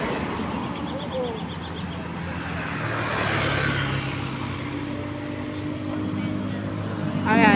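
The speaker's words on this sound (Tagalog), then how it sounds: "Oval traffic stream." Road traffic streams steadily past an oval with joggers and a bike lane, a continuous low engine rumble at moderate distance that swells slightly near the end, with voices talking over it.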